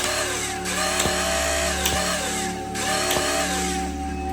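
A modified Nerf Maverick blaster's flywheel motor revs steadily in a close, continuous whir, with a few brief clicks or surges as the half-pulled trigger is held.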